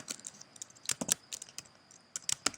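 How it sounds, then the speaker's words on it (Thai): Typing on a computer keyboard while entering input for a Python program: irregular bursts of close, crisp key clicks with short pauses between, heard alone without talk. "แล้วคราวนี้ก็พิมพ์นะครับ"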